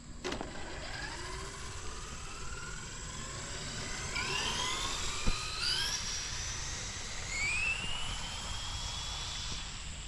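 A Traxxas Drag Rustler RC car speeds down an open road, its electric motor whining in rising, sweeping pitches as it accelerates past, loud and close with a brief thump midway and no talking.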